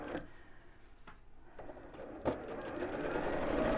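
A sewing machine stitches the top and bottom seams of a messenger bag in a steady, close whir that builds slightly toward the end, broken by a couple of brief clicks.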